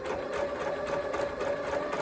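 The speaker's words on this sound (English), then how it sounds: "And really sew slowly. It's not a race." A sewing machine stitches slowly along a curved seam, a steady close mechanical whirr with an even rapid needle rhythm running continuously throughout.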